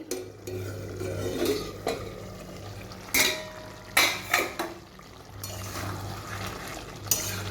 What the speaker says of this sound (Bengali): ঢাকনাটা এবার খুলছি।